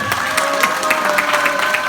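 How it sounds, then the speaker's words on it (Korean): An audience applauds at a Korean public debate forum on conservative unity: steady, dense clapping that keeps an even level throughout with no break. "비봉 출판사 박기봉 대표님께 뜨거운 박수 부탁드리겠습니다"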